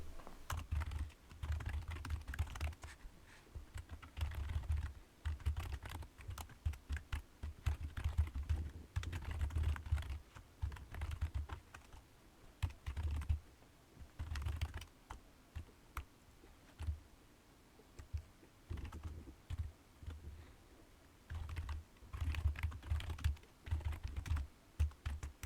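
Code is typed on a computer keyboard for an MT5 trading program, with long stretches of quiet, irregular key clicks in bursts and short pauses, faint and close with no talking.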